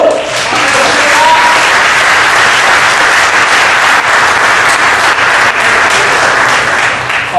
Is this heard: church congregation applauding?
yes